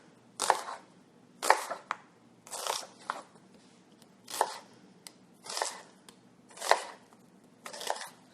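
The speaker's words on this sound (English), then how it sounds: "I know there's like 18 different ways to cut an onion." A knife slices an onion into half moons on a cutting board in a home kitchen: seven evenly spaced crisp crunching chops, close and fairly quiet, with no talk.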